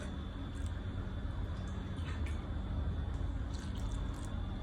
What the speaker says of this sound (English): So I'll be adding room temperature water into my milk.